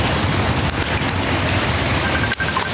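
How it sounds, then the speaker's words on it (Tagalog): Wind buffets a microphone outdoors, a constant rough, loud rumble with small gusty fluctuations and a brief drop near the end, with no clear voices. "idikit ko lang yung mic kasi mahangin"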